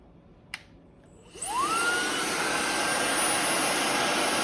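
A MOOSOO high-speed smart hair dryer clicks on and spins up with a rising whine, then settles into a steady, loud rushing hiss of airflow with a thin high-pitched motor tone, close up.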